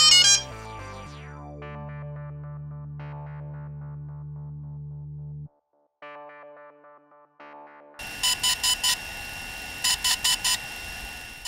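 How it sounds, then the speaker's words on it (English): A DJI Phantom 3 drone plays a sequence of musical electronic tones as its firmware update begins, a descending cascade followed by sustained chimes, a short pause, more tones, then repeated bursts of rapid high beeping over a hiss. "This noise tells us that the copter just started the updating process."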